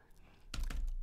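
Several quick keystrokes on a computer keyboard on a Mac as a terminal command is typed, a short burst of close, crisp clicks after a brief quiet moment.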